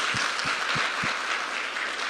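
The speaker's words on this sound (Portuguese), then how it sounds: "a salva de palmas para vocês." A large audience at a motivational business event in Alphaville, Brazil, bursts into sustained applause, a dense, steady wash of clapping with a few distinct low thumps near the start and no talking.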